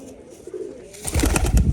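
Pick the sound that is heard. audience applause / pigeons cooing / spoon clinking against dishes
pigeons cooing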